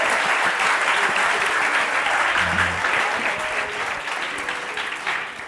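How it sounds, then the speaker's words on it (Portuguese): A church congregation at a Portuguese-language worship service bursts into loud, sustained applause, a thick continuous roar of clapping that barely eases across the whole stretch. "Dê uma salva de palmas a Jesus."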